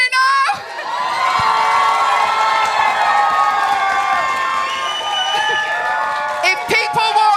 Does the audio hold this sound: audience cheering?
yes